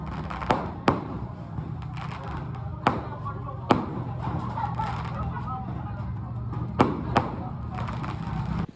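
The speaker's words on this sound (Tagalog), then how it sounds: "Tapos heto, meron nga pa fireworks display." Scattered sharp bangs and pops of a fireworks display at a village fiesta, some distant, over a busy crowd and background chatter.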